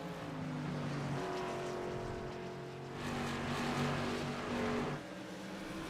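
Race car engines roar in a sim racing video game at a virtual Five Flags Speedway, several cars droning and rising in pitch as they pass, with a louder surge midway and no talk.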